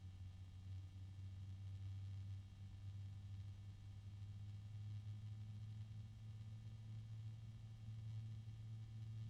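A Gui And Jing GAJDM12025B 120mm 2-pin computer fan drones with a steady low hum. Sustained resonant tones ring over faint airflow noise, even and quiet throughout with no one talking.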